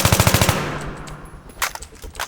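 An M16 assault rifle fires a rapid burst of about eight loud shots in Battlefield 3, followed by a decaying echo and a few scattered clicks and thumps.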